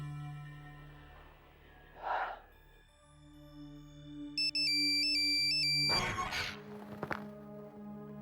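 A phone ringtone plays a repeating electronic melody, clear and fairly loud, with a gasp and rustling around it.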